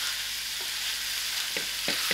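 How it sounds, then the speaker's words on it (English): Cabbage cooking on very low heat gives a soft, even sizzle in the pan, with a few light spoon scrapes near the end; close and quiet, with no talking. "It's been cooking on a very low heat"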